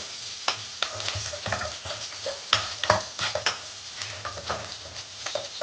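Garlic and onion sautéing for pinakbet, an irregular sizzle punctuated by repeated sharp clacks and scrapes of a utensil stirring in the pan, close by.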